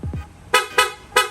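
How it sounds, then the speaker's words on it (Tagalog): A Honda Click motorcycle horn is tapped repeatedly in rapid short toots, a quick series of sharp bright honks close by. "Rapid horn."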